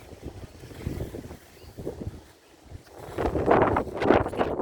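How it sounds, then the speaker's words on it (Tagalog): Strong wind gusting across a house-framing job site, rushing and buffeting the microphone in uneven surges that build louder and rougher toward the end, with no talk. "Grabe po ang halakas ng hangin."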